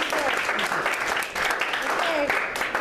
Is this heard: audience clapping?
yes